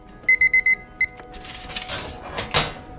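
A kitchen timer beeps in a quick burst of four electronic tones, then one more. Rustling and clattering handling sounds follow.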